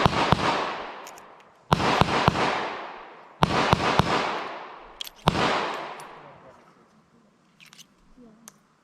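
Four sharp, loud shots ring out from a cheap Clerke 1st revolver fired quickly, arriving in two closely spaced pairs, each crack leaving a long decaying echo, followed by faint clicks and handling noise.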